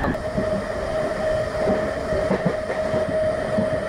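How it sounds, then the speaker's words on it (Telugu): A Narasapur–Nidadhavolu MEMU train runs through a station without stopping, giving a loud, steady rumble with a sustained tonal whine and rhythmic wheel clatter throughout. "మన మెమో ట్రైన్ అయితే స్కిప్ చేస్తుందండి"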